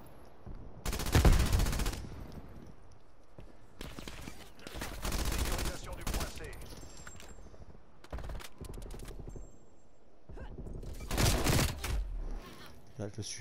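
Bursts of automatic gunfire from the Call of Duty Black Ops Cold War video game, several loud clusters separated by short pauses, with a voice talking over parts of the action.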